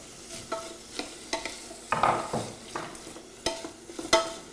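Onions and black olives fry in a pan with a soft sizzle, broken by repeated spatula scrapes and taps, several crisp strikes spaced a second or so apart.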